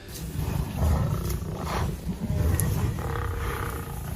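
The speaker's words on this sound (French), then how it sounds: "l'énorme bovin émet une série de grognements menaçants et frappe le sol de ses sabots colossaux en guise d'avertissement" An African buffalo gives a series of deep, threatening grunts and rumbling low calls in the wild, loud and close, with brief swells of sound over a steady low background and no talking.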